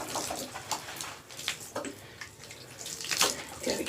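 Water sprays and splashes while a dog is washed in a raised grooming tub, a steady hissing wash with irregular splashy bursts, close and fairly quiet.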